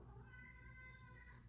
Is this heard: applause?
no